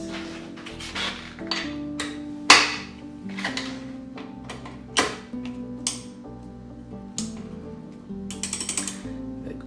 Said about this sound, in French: je vais prendre une rallonge avec un ratchet puis je vais être en mesure de dévisser légèrement